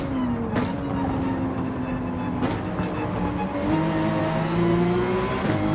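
Porsche 911 race car at full throttle in a GT3 racing video game, its engine droning steady and loud with pitch rising and dropping through the gear changes, and brief sharp bursts between them.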